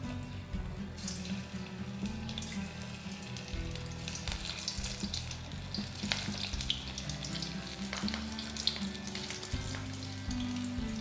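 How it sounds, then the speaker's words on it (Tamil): Banana flower masala balls deep frying in hot oil, a steady dense sizzle and bubbling running throughout, close and continuous with faint kitchen clatter and no talk. "இப்போ நம்ம இதை எண்ணெயில் பொரிச்சு எடுத்துடலாம்."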